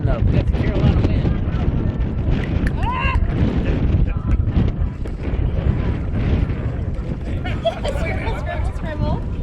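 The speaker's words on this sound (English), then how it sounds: "We got the Carolina wind." Blustery Carolina wind buffeting a microphone at an outdoor NHRA drag racing media day, a constant heavy low rumble throughout with people talking over it and crowd babble behind.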